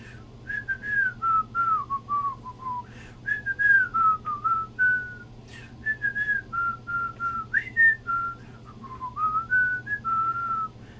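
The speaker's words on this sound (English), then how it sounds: "I am going to whistle this because the tune is going to be recognizable" A person whistles a melody from Disney's Robin Hood, clear and close, in bouncy phrases of short and gliding notes over a low steady hum.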